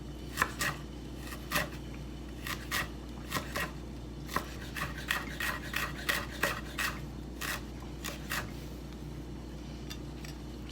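A knife chops vegetables into small pieces for a chicken and vegetable stir fry, making crisp, close-up strikes on a board in quick irregular bursts over a low, steady hum, with no talking.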